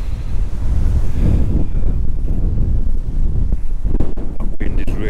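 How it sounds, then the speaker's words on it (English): Strong wind buffets a high hilltop near a monument, roaring steadily against the microphone with loud, continuous gusts throughout. "That wind is really getting up now, isn't it?"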